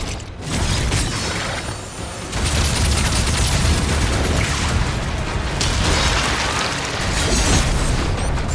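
Bombs explode in DOOM: The Dark Ages with loud, dense rumbling booms and grinding mechanical clatter, nearly continuous with brief dips.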